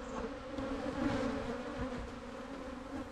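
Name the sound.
aggressive honeybees buzzing at a hive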